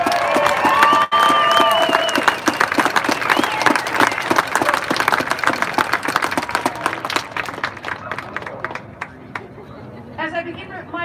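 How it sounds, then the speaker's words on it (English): A rally crowd in Boise, Idaho applauds and cheers loudly, with whistles at the start, then the clapping gradually thins and fades over about eleven seconds. "Please join me in giving them a huge round of applause."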